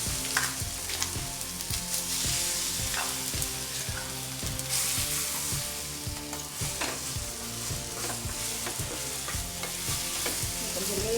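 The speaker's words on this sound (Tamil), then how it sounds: "கொஞ்சம் லேசாக வதக்கணும்" Okra chutney with curry leaves sautéing in a pan, continuous loud close sizzling with a regular rhythm of spatula scrapes, no talk.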